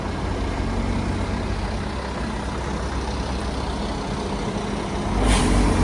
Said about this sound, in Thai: รถบรรทุกหลายสองคัน